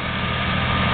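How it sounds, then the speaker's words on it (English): A 1948 Colwood Model B with a JAP 2A engine runs at a tractor show in Biddenden, Kent, its small engine giving a steady, close, continuous putter with no talk over it. "This one is a 1948 Model B with a Jap 2A engine."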